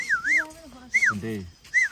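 A dog whines in high, sweeping whimpers, three close cries over a couple of seconds with a lower murmur between them.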